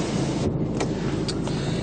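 Inside a 2010 BMW X1, the electric sunroof blind runs closed with a steady motor whir and a few small clicks, heard up close over continuous cabin noise.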